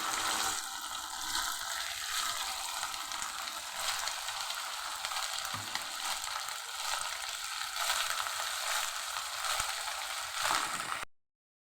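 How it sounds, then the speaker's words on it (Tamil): Steady, bubbling sizzle of chicken deep frying in hot oil in a pan for dragon chicken, close up and continuous, with faint crackles and no talking. "பாத்திரம் வச்சு எண்ணெய் சூடு பண்ணி வச்சுருக்கேன்"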